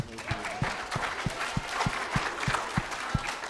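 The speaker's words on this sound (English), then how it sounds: "want to give Tanner a big round of applause" A small audience applauding a guest speaker at a tariffs talk, with a few distinct close claps beating in a loose steady rhythm over softer scattered clapping.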